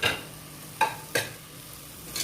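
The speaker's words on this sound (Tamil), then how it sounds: "நம்ம வெட்டி வச்சுருக்கக்கூடிய ஒரு தக்காளியை போட்டு நல்லா வதக்கி விட்டுக்கோங்க." Chopped tomato sautés in a pan for mutton biryani, a quiet sizzle broken by three or four short scraping stirs of a spoon.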